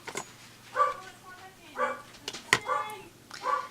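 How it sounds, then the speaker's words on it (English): A dog barks several times in a regular series of close, fairly loud yaps, with a voice audible nearby. "dog's having a bark fest."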